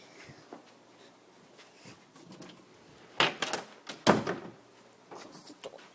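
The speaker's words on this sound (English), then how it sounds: "Close the door." In a home office upstairs, a door is pushed shut with two close, solid thuds and a rattle of the latch, after a few quieter shuffles and creaks.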